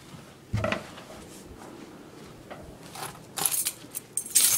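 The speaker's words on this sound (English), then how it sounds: "Kind of forgot my keys." Keys jangle and clink in a few brief bursts, with a sharper rattle near the end, close by and fairly quiet, with no talking.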